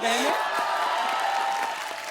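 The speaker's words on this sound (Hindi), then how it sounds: "जोरदार तालियां हो जाएं" Studio audience applause on a televised comedy show, a broad wash of clapping and crowd noise that holds steady at moderate volume, with some vocal sound mixed in.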